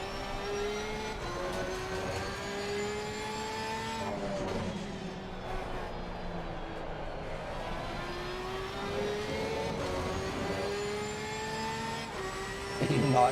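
A Porsche race car in Assetto Corsa Competizione drones steadily at high revs, its engine tone dipping briefly as it lifts and then climbing again, running continuously with a louder surge at the very end.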